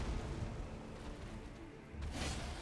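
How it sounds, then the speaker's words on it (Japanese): A single explosion booms in Elden Ring, a short bright burst landing near the end over a low rumbling battle backdrop. "爆発する"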